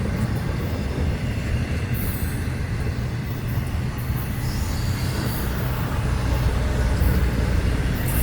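An FEC Railway train picks up speed, its steady rumble and clatter of wheels and railcars loud and close, with faint high squeals from the rails, all without voices.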